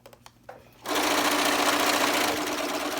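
A sewing machine stitches the bottom seam of a cloth face mask past the elastic: after a few quiet clicks it starts up and runs fast, loud and steady to the end.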